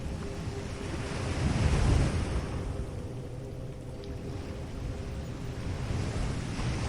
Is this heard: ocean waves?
yes